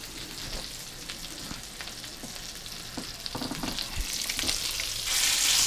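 Meatballs fry in butter in a pan with a steady sizzle and hiss, scattered soft pops and stirring knocks, the frying growing slightly louder toward the end, heard close with no talk.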